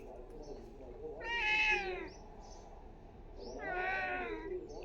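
A cat meows twice, two drawn-out, rising-falling cries a couple of seconds apart, close and clear over a quiet background.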